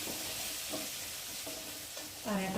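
Fish curry with chili powder is stirred in a sizzling pan, a steady frying hiss broken by several spoon strokes at regular intervals, with a louder scraping stir at the end.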